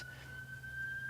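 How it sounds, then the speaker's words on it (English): A steady, faint siren tone holds one pitch in the distance, with a low hum of background noise and no talking. "the sirens and whatever's happening there"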